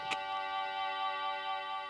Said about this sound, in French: Curieux, j'entends un tic-tac.